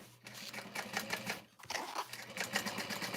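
A sewing machine stitches a 3/8-inch seam on a bag. Two close runs of rapid, even stitching are split by a brief pause near the middle, and the sound stays fairly quiet.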